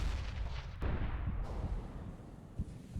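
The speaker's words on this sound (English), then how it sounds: "I'm throwing flashbang." A dull flashbang blast and crackle of gunfire in Counter-Strike: Global Offensive over a constant roar of game noise, with sharp bursts standing out.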